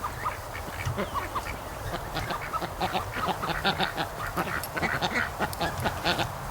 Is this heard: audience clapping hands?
no